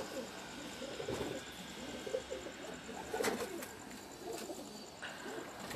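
Racing pigeons on a rooftop give soft, low cooing calls, repeated and fairly close, over a steady background hiss with faint voices in the distance.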